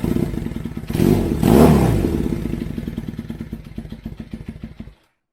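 Kawasaki KZ440 motorcycle with a custom high-mount exhaust running close by, a brief rev swelling then settling into a steady idle before cutting off.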